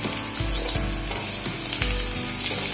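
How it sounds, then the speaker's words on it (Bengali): Pointed gourd and potato pieces fry in hot oil with a loud, dense, close sizzle, interrupted every few moments by the thump and scrape of a spatula turning them. "পটল আর আলুটা একসঙ্গে ভেজে নেব ভালো করে"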